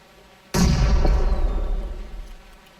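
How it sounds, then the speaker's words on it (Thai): A single loud, close grenade explosion in a video game bursts suddenly and rumbles away over a couple of seconds, with a deep boom and crackling tail. "ใครปาระเบิดมั้ง"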